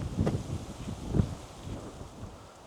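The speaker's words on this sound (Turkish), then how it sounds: "Bir de rüzgar var." Low, gusty wind rumbling against the microphone, rising in a couple of soft surges before easing off, with no voices.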